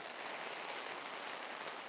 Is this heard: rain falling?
yes